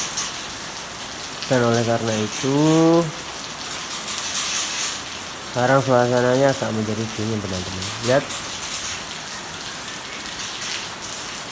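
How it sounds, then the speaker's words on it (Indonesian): Steady rain falls and runs off in a cool, wet setting, forming a broad continuous hiss throughout, while someone speaks over it in two stretches. "pada akhirnya hujan"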